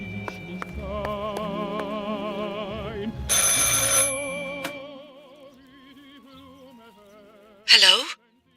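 A telephone rings repeatedly in the psychological horror game Martha Is Dead, its warbling bell tone heard several times over steady eerie ambience, with a burst of noise midway and a sharp electronic squeal near the end.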